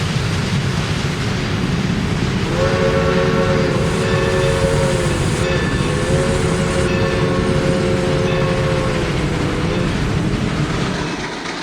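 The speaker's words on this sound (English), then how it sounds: "The Shay is running heavy on the oil smoke again, putting on a show for the fans as it passes Montezuma." A Shay steam locomotive on the Sierra Railroad near Montezuma rumbles loudly past and burns oil, its chuffing and rolling noise constant while a long sustained whistle sounds through the middle.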